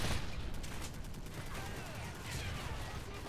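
Gunfire in the shooter game Call of Duty Modern Warfare 3, quiet rapid bursts of shots and crackling under a faint game soundscape, with brief sharp cracks scattered throughout.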